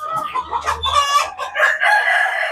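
KUB native chickens on a poultry farm, a rooster crowing loudly and close with harmonic calls while hens cluck around it, no talking.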